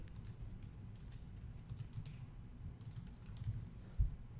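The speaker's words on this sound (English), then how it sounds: "So you can type that here yourself," Keys clatter steadily on a computer keyboard as HTML is typed into a code editor, soft close clicks with a slightly louder tap near the end, no voice.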